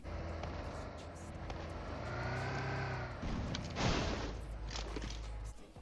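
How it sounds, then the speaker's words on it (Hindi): A vehicle in PUBG Mobile comes over a hill, its engine growing from a distant drone to a louder revving pass with a rushing burst near the end, no talk. "अब मुझे दिखती है पहाड़ के ऊपर से गाड़ी आते हुए"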